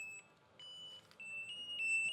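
A bicycle alarm cycles through its tone settings, with steady high electronic beeps and tones that switch pattern every half second or so over a low background hum.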